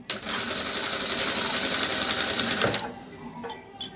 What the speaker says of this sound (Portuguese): É só uma costura reta simples, bem na pontinha